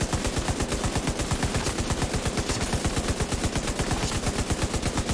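A light machine gun firing a sustained burst in Division 2, rapid evenly spaced shots hammering without a break for the whole stretch, loud and close.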